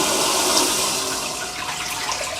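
A DeerValley smart toilet runs a long flush, with water rushing and swirling steadily at close range, loud and unbroken, with no talking.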